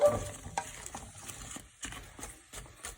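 Three large onions frying in a pan for a chicken and mushroom quiche, giving a soft, steady sizzle broken by a few scraping stirs, close and fairly quiet.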